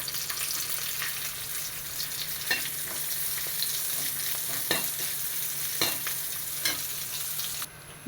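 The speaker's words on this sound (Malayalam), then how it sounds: "ഇനി അതിലോട്ട് കുറച്ച് മുന്തിരിങ്ങ കൊടുക്കാം" Raisins and cashews frying in ghee for kadala pradhaman give a steady soft sizzle and crackle, with scattered small pops and a faint stir now and then, all close and even with no voices.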